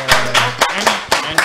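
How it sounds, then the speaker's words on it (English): A small live podcast audience claps, a few distinct loud claps in an uneven rhythm, close by, with a low voice murmuring underneath. "Round of applause."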